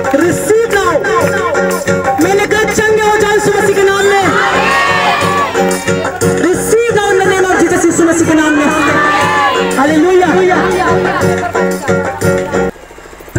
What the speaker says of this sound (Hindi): ताली बजाएंगे सब लोग